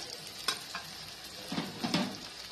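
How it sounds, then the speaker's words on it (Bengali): Spice pastes of cumin, ginger and chili frying with browned potatoes in a pan, a soft steady sizzle broken by a few louder stirring scrapes and clatters, with no voices. "এবার আমি মশলাগুলো দিয়ে দিই।"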